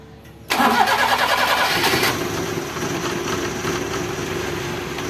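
A Toyota 3AU engine in a repair shop cranks and fires abruptly, roaring up to a loud rev before settling into a steady, close idle with a rough, uneven note.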